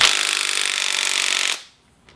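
An electric impact tool tightens a motorcycle fork cap in one continuous buzzing, rattling burst lasting about a second and a half, loud and close, then stops abruptly into near silence.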